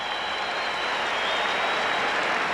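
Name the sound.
stadium crowd applause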